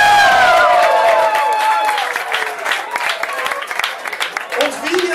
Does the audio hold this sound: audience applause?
yes